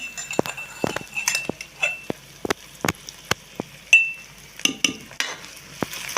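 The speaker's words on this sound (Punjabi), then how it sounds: "ਇਹਦੇ ਵਿੱਚ ਪਾ ਕੇ ਭੁੰਨ ਲੈਣਾ ਇਹਨੂੰ ਵੀ ਚੰਗੀ ਤਰ੍ਹਾਂ ਭੁੰਨ ਲਓ" Garlic and eggplant roast in a pan, with sharp, irregular clinks and scrapes of a utensil against the metal over a faint sizzle, close and without speech.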